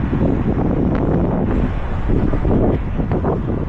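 Strong, cold wind buffets the microphone outside St James's Park in Newcastle upon Tyne, a loud continuous low rumble with gusty surges and no voices.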